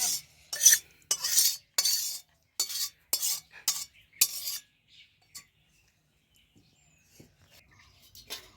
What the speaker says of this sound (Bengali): এবার আমার মা মাংস করছে। মাংসটা এখন কষে নিচ্ছে।